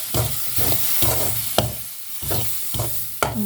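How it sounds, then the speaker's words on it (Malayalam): Tomato sautéing in a pan for a dried prawn roast, with repeated rhythmic scraping strokes of a spoon against the pan over a soft sizzle. "തക്കാളി ഇട്ടിട്ട് കുറച്ച് സമയം കൂടെ ഒന്ന് വഴറ്റി കൊടുക്കാം."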